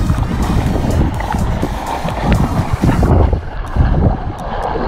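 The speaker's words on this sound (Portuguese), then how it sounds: "Essa ventania" Strong gusty wind at a beach buffets the microphone in loud rumbling bursts, easing slightly near the end, with no voices.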